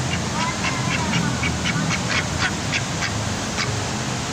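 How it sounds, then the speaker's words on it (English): Ducks quacking in a lively run of repeated calls, fairly close, over a steady background hum. "Quack, quack."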